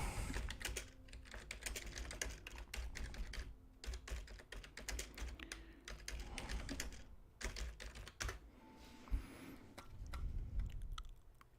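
Quick bursts of typing on a computer keyboard, keys clattering in irregular runs with short pauses, close but fairly quiet, with no talk over them.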